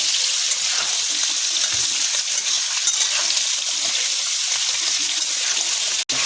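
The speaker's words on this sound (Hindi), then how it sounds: "अब इसमें आलू डाल दें। आलू को थोड़ा से चला लेंगे।" Potatoes sizzle loudly in hot oil in a pan, a dense continuous frying hiss close by, with soft stirring scrapes and a sharp clink near the end.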